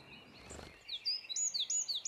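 A wren sings outdoors, a quick run of high, bright trills and chirps that starts after a brief quiet moment and carries on, fairly faint and set against low background hiss.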